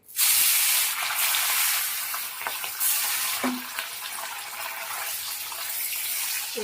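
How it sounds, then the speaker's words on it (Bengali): Bele fish frying in oil in a kadai, a steady loud sizzle running throughout with a few soft clinks of a utensil, no voices. "এবার মাছগুলোকে অল্প অল্প দু চারটে করে করে দিয়ে দিয়ে ভেজে নেবো"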